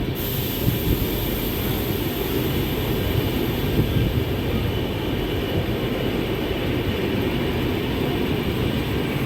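Tirumala Express train running at Guthi junction railway station, platform one, a steady loud rumble of rolling wagons with broadband hiss lasting throughout, close and continuous with no pauses.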